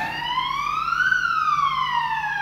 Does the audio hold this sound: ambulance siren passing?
yes